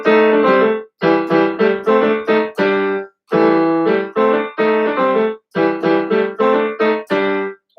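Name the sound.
bass and baritone voices singing together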